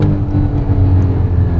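A Porsche Boxster S 981's 3.4-liter flat-six revs loud and close, a steady, strained drone held high without a break.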